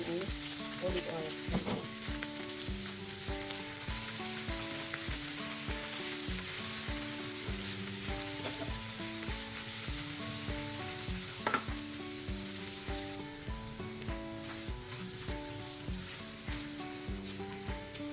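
Food frying in olive oil for a Filipino-style sweet and sour dish, a steady broadband sizzle running throughout under a layer of background music.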